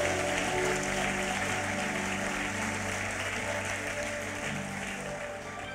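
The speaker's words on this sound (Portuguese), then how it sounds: "Você pode aplaudir a Deus." A church congregation claps steadily in sustained, dense applause that fills the room for several seconds, easing off slightly toward the end, with no talk over it.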